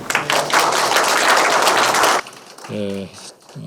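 Audience applause at a public forum welcoming a university professor as presenter, a burst of dense clapping lasting about two seconds before a voice begins speaking.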